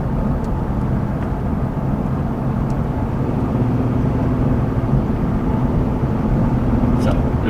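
A car drives steadily near Otwell, Indiana, its low engine and road rumble constant throughout, heard from inside the cabin.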